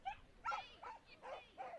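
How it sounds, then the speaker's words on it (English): Five sharp barks from a young agility dog mid-run in a competition ring, coming in a quick uneven rhythm of high yips, fairly near and moderately loud. "she loves the sound of her own voice or her bark"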